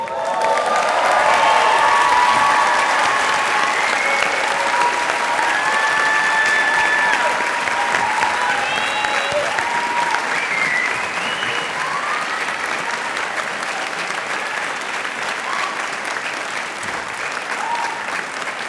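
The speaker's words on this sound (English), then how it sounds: "It's appropriate that we all applaud you on your accomplishments" At a university commencement ceremony in Paris, a large audience applauds the graduates in a long, loud, steady wash of clapping with scattered cheers and shouts, fading only slightly toward the end.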